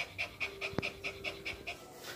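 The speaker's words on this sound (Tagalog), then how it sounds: "As you observe po, kagad po siyang hinihingal at pinapagod." A Pomeranian pants after running around, a close, steady series of quick breathy pants in even rhythm, with one brief tonal squeak partway through.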